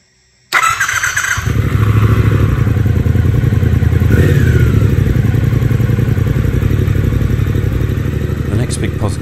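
A Triumph Speed Twin 1200 motorcycle engine fires up and then runs at a steady, loud idle, close by, with a deep, throbbing rumble and some mechanical clatter.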